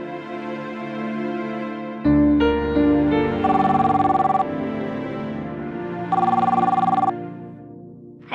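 A telephone bell rings in repeated bursts, loud and close, in a Hindi courtroom drama scene, with the tone shifting between rings and no talk over it.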